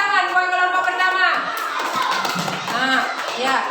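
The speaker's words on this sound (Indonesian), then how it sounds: "Coba tepuk tangan buat kelompok pertama." A classroom of children claps for the first group of students, a burst of mixed clapping and children's voices following a teacher's voice.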